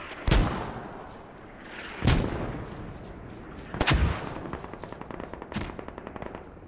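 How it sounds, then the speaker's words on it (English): Mortar impacts and gunfire in the video game Squad boom in four heavy, evenly spaced blasts, each followed by rumbling decay and scattered rapid shots between. "Negative, mortars are just, I don't even know where they're landing."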